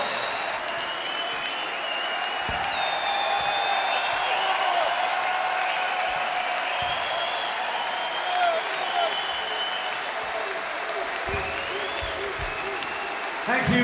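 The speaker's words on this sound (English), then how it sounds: "The biggest applause of the evening" Concert audience applauding at the Royal Albert Hall during a show, a steady, fairly distant wash of clapping sustained for about fourteen seconds, with some cheering tones mixed in.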